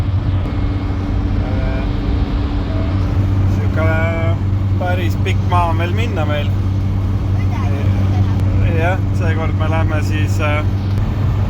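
A bus drives along a road in winter, its steady low engine drone and road rumble continuous throughout, with people chatting in Estonian over it.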